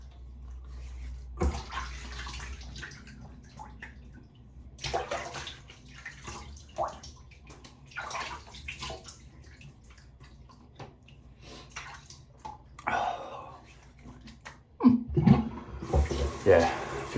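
A tap runs into a sink as someone rinses their face after a wet shave, rushing and splashing water in uneven bursts, with someone talking intermittently nearby.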